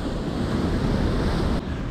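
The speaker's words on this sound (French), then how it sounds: "il n'y a rien là, il y a du vent, hein." Steady wind and rolling surf on a sea coast at night, a loud continuous rush of waves and gusts buffeting the microphone with no break.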